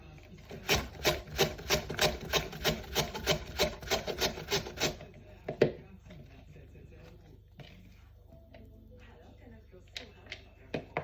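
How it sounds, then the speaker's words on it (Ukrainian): Beetroot and carrot being grated on a Korean carrot grater, a fast run of even rasping strokes that then gives way to scattered softer scrapes and clatter, with some background voice. "натираю бурячок і морковку на тертку для корейської моркви"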